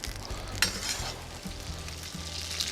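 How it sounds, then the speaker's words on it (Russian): Dumplings sizzle and fry in oil inside a cauldron over a campfire, a steady close crackling hiss broken by occasional stirring scrapes and clinks. "Пельмешки наши уже поджариваются."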